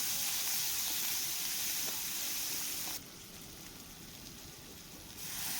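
Onion fries in hot oil with cumin, giving a steady, close, bright sizzling hiss that drops to a slightly quieter level partway through and then swells again near the end. Nobody talks.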